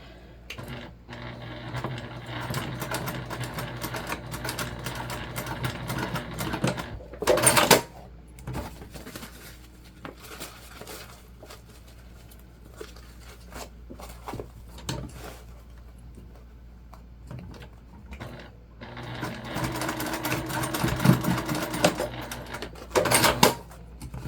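A sewing machine runs in long steady bursts while stitching summer beach pouches in a batch, with brief clicking pauses between seams as the machine trims its threads automatically; no talking is heard.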